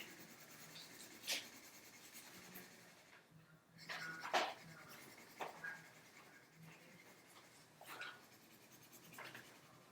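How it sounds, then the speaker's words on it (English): A brown marker colors in a shape on paper for a craft project, giving soft repeated scratchy strokes at moderate volume that come in short bursts, with no talk. "I'm going to use my brown Sharpie here, or sorry, brown marker, and I'm going to color that in"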